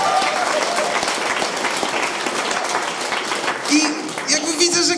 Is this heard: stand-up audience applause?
yes